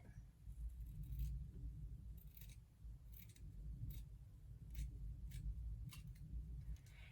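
Scissors trimming fabric for a homemade mask, a series of crisp snipping cuts repeated at roughly even intervals over a low, steady rumble.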